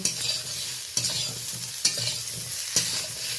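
Fried pointed gourd stirred in a pan, steady sizzling punctuated by four evenly spaced sharp spatula scrapes and knocks against the pan, nearby and without speech.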